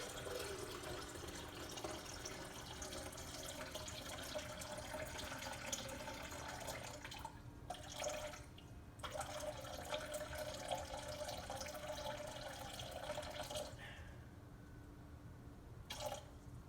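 Steady broadband rush of water pouring continuously, with a couple of brief pauses where the flow stops, then resumes briefly near the end.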